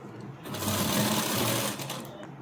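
A sewing machine runs in one steady, loud burst of stitching for about a second and a half while sewing a three-layer frock, close by with a brief start and stop.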